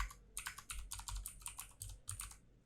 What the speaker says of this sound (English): So I'll type difference.